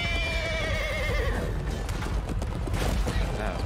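In the medieval combat video game Chivalry 2, a horse whinnies loudly with a wavering neigh for over a second, followed by clattering hooves and battle noise continuing underneath.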